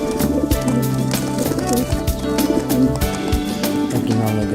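Racing pigeons cooing in a pigeon loft, with repeated low throaty coos overlapping steadily, close and fairly loud, amid light rustling and movement.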